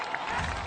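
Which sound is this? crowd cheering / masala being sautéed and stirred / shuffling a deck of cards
crowd cheering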